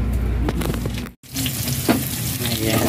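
Onions sautéing in a frying pan, a loud, close, continuous sizzle with a brief cut partway through, alongside stirring and scraping.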